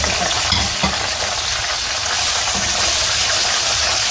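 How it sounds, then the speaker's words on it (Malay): Steady, crackling sizzle of dried chilies frying in hot oil, continuous and close, with a faint stirring clatter early on. "sekarang Mami nak goreng cili kering dia dulu"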